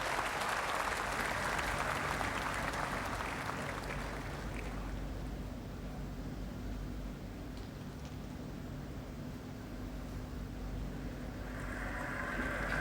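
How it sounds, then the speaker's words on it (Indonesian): Sustained applause from an audience inside a parliament chamber during a presidential inauguration, a dense steady wash of clapping that holds for the whole stretch and swells again near the end. "mendapatkan tepuk tangan yang meriah dari hadirin yang hadir di dalam parlemen"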